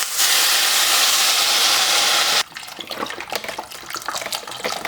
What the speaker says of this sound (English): now we're gonna take some of that chicken broth and splash it on in there.